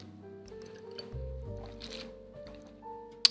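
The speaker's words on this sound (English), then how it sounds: "Let me get a drink of water here" Someone takes a drink of water, with soft liquid and swallowing sounds and a small clink near the end, close and quiet with no talking.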